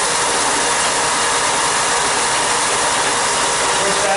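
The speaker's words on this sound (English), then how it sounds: "all you have to do is turn on your sander" A sander fitted with a barrel taper tool runs steadily, giving a loud, even whirring hiss that holds without a break throughout.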